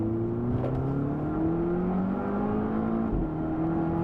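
A 2018 Volvo V60 Polestar's turbocharged four-cylinder pulls hard under acceleration, its rising whine and engine tones climbing steadily in pitch as it gains speed, close and loud with no voices.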